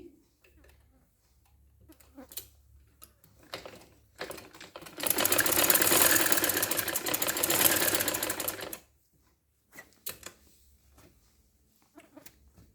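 A sewing machine stitches the shoulder seams of a kameez in one loud burst of about four seconds near the middle, framed by quieter handling sounds.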